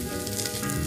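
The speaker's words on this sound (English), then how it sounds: "We're going to let it continue to sear on the skin" Redfish skin-side down searing in a hot pan, a steady dense sizzle and crackle throughout, close and even with no voices.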